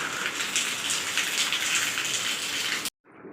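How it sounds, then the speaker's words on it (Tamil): Steady rain falling during a Gujarat downpour, a dense close patter and hiss that runs evenly, then cuts abruptly and resumes fainter. "இப்போ மழை பெஞ்சிட்டு தான் இருக்குது"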